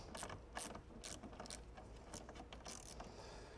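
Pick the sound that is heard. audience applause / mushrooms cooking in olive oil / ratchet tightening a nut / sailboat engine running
ratchet tightening a nut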